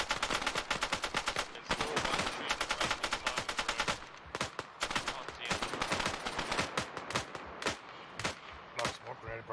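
Rifle and machine gun fire in a military video game, rapid dense bursts of shots hammering almost continuously, loud and close, with brief pauses between volleys and voices talking underneath.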